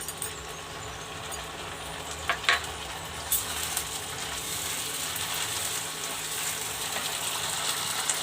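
Green chili and Kashmiri chili paste frying with onions in a pan, giving a steady, close sizzle with faint crackles and a few scraping clicks of a utensil, no talking.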